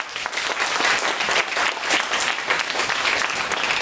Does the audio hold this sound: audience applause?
yes